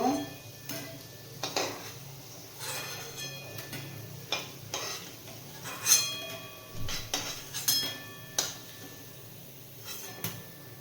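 Flattened rice cutlets fry gently in a pan over a low flame, a quiet sizzle punctuated by repeated clinks and scrapes of a metal spatula against the pan at irregular intervals.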